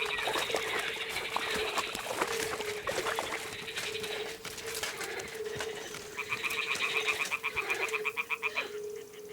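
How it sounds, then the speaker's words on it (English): Toads croak in a rapid, rattling trill against a watery bog ambience in a video game, growing louder and more regular toward the end. "the toads are croaking here"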